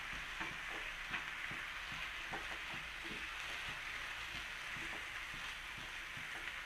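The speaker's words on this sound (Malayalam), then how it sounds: "ഇത് തുടരെ ഇളക്കിക്കൊണ്ടിരിക്കണം." Rava upma with vegetables being stirred continuously in a pan, soft sizzling with scattered scraping and tapping strokes of the spoon, fairly quiet and steady throughout with no talking.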